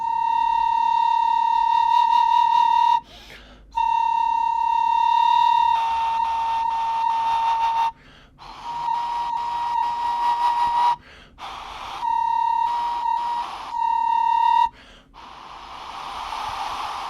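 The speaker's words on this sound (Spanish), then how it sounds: "Esta simple diferenciación entre estos dos silbatos nos está mostrando que es la base de los sistemas acústicos de los aerófonos precolombinos." Two pre-Columbian ceramic whistles played in turn, sustained piercing pure tones near one pitch, each blown for a few seconds and separated by short breaths, loud and close with no talking.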